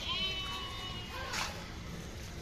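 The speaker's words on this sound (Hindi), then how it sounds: "एक ये बकरी है" A goat at a crowded livestock market in Deonar gives a short wavering bleat, fairly faint against a busy background murmur.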